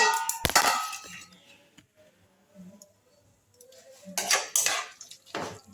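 A metal lid goes onto a cooking pot of simmering potato and mixed vegetables, with a sharp clang at the start and a second cluster of rattling clanks near the end, quiet between them and no voices.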